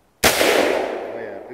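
A single rifle shot of reloaded .223 ammunition fired outdoors: one sudden, loud, close blast followed by a rolling boom that fades away, with no talking.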